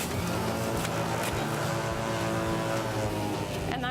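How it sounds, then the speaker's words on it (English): A juicer running at full power, a loud, steady roaring whine like a jet taking off, sustained throughout with no talk over it. "Sounds like an airplane taking off. That's quite the juicer."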